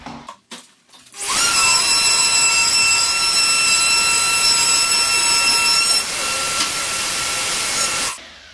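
A power drill bores bolt holes into a kitchen worktop, a loud, steady high-pitched whine that starts abruptly, holds for about seven seconds, dips slightly near the end and then cuts off.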